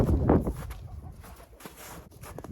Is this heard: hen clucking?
yes